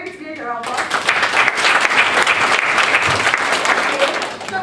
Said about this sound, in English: Okay, give Vivian a round of applause.